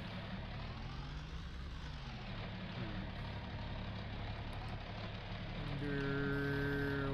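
Tractor engine idling in a Farming Simulator game, a steady low mechanical drone with a rising tonal whine that grows slightly louder toward the end.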